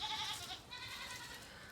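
Goats bleat in a short, wavering cry at close range, followed by a second quavering bleat, with no talking over them.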